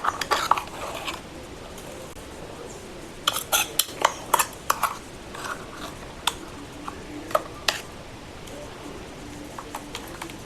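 Metal utensil clinks and scrapes against a pot of boiling Konkani tender cashew curry as masala paste is stirred in, uneven rhythm, sharp knocks standing out over a quiet kitchen background.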